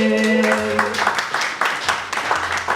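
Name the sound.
audience applauding to welcome a speaker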